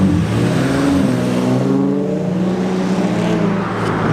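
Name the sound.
car engine humming and revving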